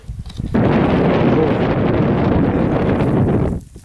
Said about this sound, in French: Vous pouvez constater que c'est gris, il y a du vent.